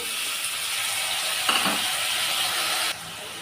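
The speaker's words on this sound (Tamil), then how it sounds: "இப்போ எடுத்து வச்ச அன்னாசி பழத்தை இந்த நெய்லையே நல்லா ஒரு ரெண்டு நிமிஷத்துக்கு நல்லா வதக்கி விட்டுக்கலாம்" Pineapple pieces sauté in hot ghee for a pineapple payasam, giving a steady close hiss and sizzle with a brief stirring swell in the middle. The sizzle drops quieter near the end.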